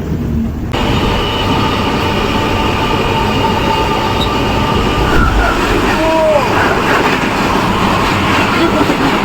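An Indian passenger train from Bhavnagar to Mumbai running on the tracks, a loud, continuous close rumble and rattle with a brief wheel squeal partway through and faint voices underneath.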